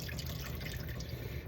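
Vinegar and water soaking goat meat are poured off, giving a faint, steady trickle and splash of liquid draining away.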